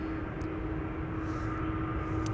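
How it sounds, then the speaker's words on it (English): A KLM Boeing 777-200ER at Amsterdam Schiphol produces a steady, continuous jet engine roar with a faint tonal whine, distant and unbroken, with no voices. "This is KLM flight 591, going to Johannesburg, South Africa."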